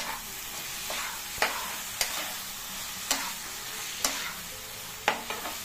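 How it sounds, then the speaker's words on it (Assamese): Potatoes fry with ground spice paste in a pan, a continuous sizzle broken by sharp stirring clacks about once a second, close and moderately quiet without speech. "এয়া মই আৰু অলপ ভাজি ল'ম আলু"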